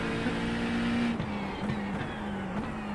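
McLaren 720S GT3 EVO race car engine in a racing sim, a steady close-up drone that shifts pitch a few times as it changes gear, with no voices.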